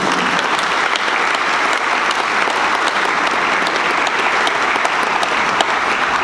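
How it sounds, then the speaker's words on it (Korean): A large audience at a South Korean Air Force event applauds uniformed service members with dense, continuous clapping that holds at an even level throughout. "우리 오늘 제복입은 그 우리 군인들을 위해서 박수 한번 치시기 바랍니다."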